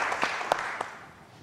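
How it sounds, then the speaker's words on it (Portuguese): Studio audience applause on a TV afternoon show, a short burst of clapping that fades out over about a second and a half. "Vamos aplaudir o Raul Seixas!"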